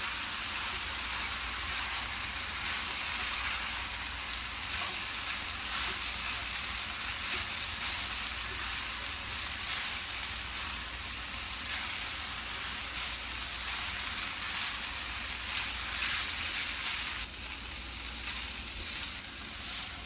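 Szechuan fried rice is gently mixed in a hot pan, giving a steady, dense sizzle and frying hiss with soft stirring scrapes throughout, fairly close and without talk.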